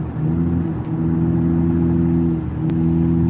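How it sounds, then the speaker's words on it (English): A car engine with no muffler drones loudly and steadily at close range for the whole stretch, a rough, even roar with only slight swells and no voices. "there's no muffler, that's why it's loud."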